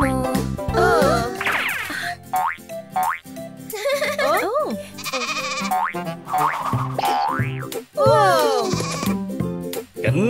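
Cartoon sheep bleat in a children's nursery song, with quirky boing effects among the music and singing voices; several bright, wavering bleats recur throughout, loud and close.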